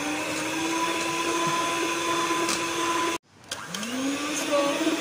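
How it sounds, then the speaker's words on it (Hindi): An electric beater whirs loudly and steadily at high speed as ghee is whipped for an oven-free homemade chocolate cake; it cuts out briefly, then spins back up with a rising whine. "हाई स्पीड पे घी काट लेना है और देख लेना है कि ये इस तरह बीट हो जाए"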